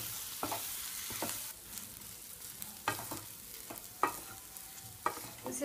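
Boiled potatoes are stirred into sandwich stuffing in a pan, a faint frying hiss punctuated by irregular scrapes and knocks of the spatula against the metal.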